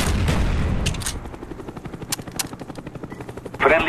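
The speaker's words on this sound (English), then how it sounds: "Friendly Cobra inbound." A Cobra attack helicopter arriving in a shooter game, rapid rotor thumping beating steadily after a few sharp shots and bursts, with a loud burst at the end.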